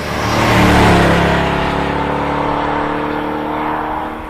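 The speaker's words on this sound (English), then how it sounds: "So it's much louder engine and exhaust sound in the E63S" A 2019 Mercedes-AMG E63S wagon accelerates hard in its sport setting, a loud, steady engine and exhaust roar building and holding with a rising tone, alone without voices.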